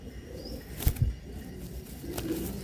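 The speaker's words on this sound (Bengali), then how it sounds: "একটু ছটপট ছটপট করছে পায়রাগুলো" Pigeons being held in the hand at a bird sale in Hooghly flutter and struggle, giving a couple of brief wing-flap bursts near the middle over a low, steady background.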